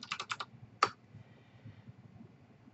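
Typing on a computer keyboard while entering a formula in Excel: a quick burst of several crisp key clicks, then one sharper, louder keystroke, followed by quiet room noise.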